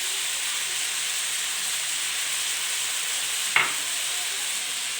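Cabbage, potato and peas frying in a pan, a steady loud sizzle throughout with one brief scrape of stirring partway through.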